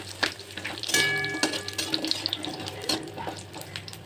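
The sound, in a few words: frying bori (lentil dumplings) with bay leaf in oil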